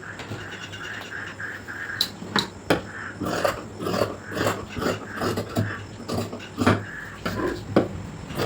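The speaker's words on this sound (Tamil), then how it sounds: "இப்போ கட் பண்ணி எடுத்துடலாம்" Scissors snip through blouse fabric being cut to measurement, a close run of crisp, rhythmic crunching cuts with short pauses between strokes.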